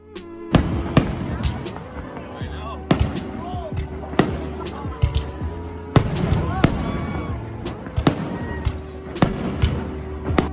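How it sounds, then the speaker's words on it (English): Fireworks explode over Honolulu, Hawaii in a rapid series of loud, sharp bangs and booms at irregular intervals, some overlapping into crackling bursts, with faint crowd sounds between the blasts. "So after a firework ending"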